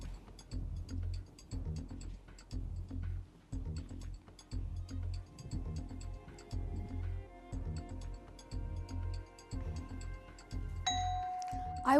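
A quiz-competition bell rings near the end, a bright chime with a sustained ringing tone following a stretch of steady rhythmic background sound.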